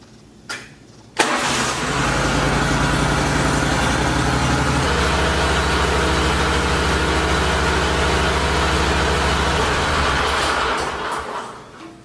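Grasshopper 329B mower engine starting with a sharp catch, then running at a loud, steady idle to warm the oil, a constant mechanical drone close by that eases off near the end, with no talk.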